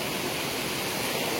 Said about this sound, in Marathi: हे असं पाणी गोल फिरतं कधी कधी